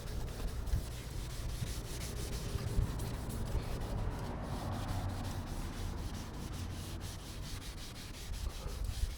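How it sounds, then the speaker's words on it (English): A scuff pad rubs back and forth over the painted bumper of a Citroen Xsara Picasso, giving a soft, continuous scratchy sanding sound at close range with no talking. "I'm just finishing off with the scuff pad, just to give it that final flattening down for the surface"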